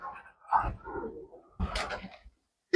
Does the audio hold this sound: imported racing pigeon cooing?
yes